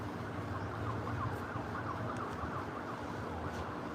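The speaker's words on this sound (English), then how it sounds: "Can't you hear all the sirens?" Emergency vehicle sirens wail through a Memphis, Tennessee street, a faint, distant, rising and falling tone over steady traffic noise and city hum.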